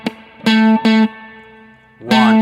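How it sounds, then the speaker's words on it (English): Distorted electric guitar plays a short funky phrase: sustained chord stabs alternating with brief muted, percussive dead-string scratches, with a pause between. "go ahead and play a dead note, just a dead string, instead of just missing completely and playing air"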